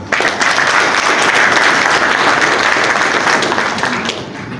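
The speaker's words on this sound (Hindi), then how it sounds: "आप सब उनके लिए भी, उनकी तमाम तर मैनेजमेंट टीम, इवन उनके ऑल मेंबर के लिए ताली बजाएं" An audience at a lovebird event grand opening in Karachi applauds the management team with loud, dense, sustained clapping that holds steady for several seconds before easing slightly at the end.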